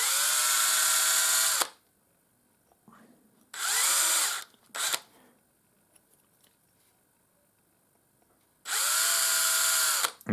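A power drill bores holes through a small model door in three separate bursts, each a loud whirring spell of about a second with quiet gaps between, close by and with no talking.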